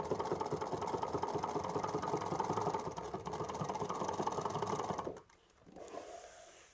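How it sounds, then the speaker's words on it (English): A sewing machine stitching a bag runs in a steady, rapid mechanical whir for about five seconds, then stops abruptly, leaving a brief faint rustle of handling. "I'm just going to slide the bag in from behind and pick up where I left off and then keep stitching."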